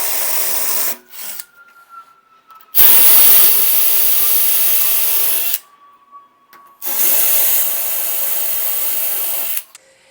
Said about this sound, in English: And make sure you're using a masonry bit. A regular drill bit's not gonna work.